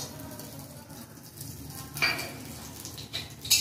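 Ginger paste and garam masala fry in ghee in a pan, with a soft continuous sizzle under quiet stirring, and a few sharper metal utensil scrapes and clinks toward the end.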